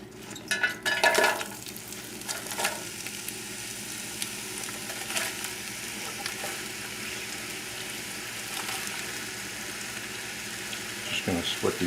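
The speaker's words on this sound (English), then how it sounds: "So we're going to put the onions and the garlic in here." Onions and garlic frying in a pan for crockpot pulled pork, giving a steady low sizzle throughout with a few louder clatters and stirring noises near the start and end.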